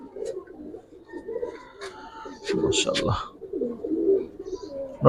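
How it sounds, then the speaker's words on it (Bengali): Soft coos of Giribaz and coloured pigeons come in short bursts, mixed with someone talking nearby and some brief clattering and rustling. "ভালো কবুতর অনেক ভালো কবুতর"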